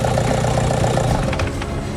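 A car engine under restoration runs with a steady, rough idle, loud and close, with a slight flutter toward the end.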